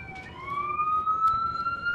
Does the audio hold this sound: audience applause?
no